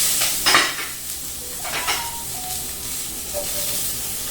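Onions sizzling in oil in a pan, the base of a mirepoix for a beef pot roast: a steady close hiss of frying with a few brief clinks of utensils against the pan, and no talking.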